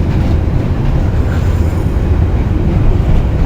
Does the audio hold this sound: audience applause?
no